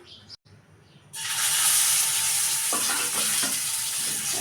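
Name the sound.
fish frying in oil in a wok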